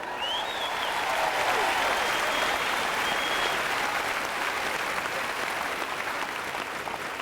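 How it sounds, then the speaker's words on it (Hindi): Audience clapping loudly for themselves at a Hindi-language sermon or talk, a continuous even wash of applause sustained throughout at moderate level. "आइए अपने लिए जोर से तालियां बजाएं।"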